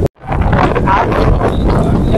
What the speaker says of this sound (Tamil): இங்க காத்து ரொம்ப அடிக்குது. இங்க நிக்கவே கூட முடியல.